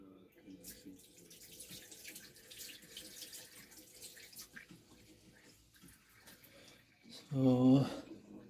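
Running tap water splashes over hands at a sink, a brief loud burst near the end after a stretch of quieter background with a voice and clatter.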